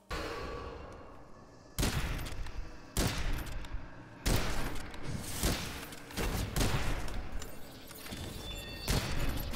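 Repeated gunfire from the All Seeing Eye gun in Witchfire, a burst of loud, close shots over and over, several sharp reports with rattling bursts between them and no talking.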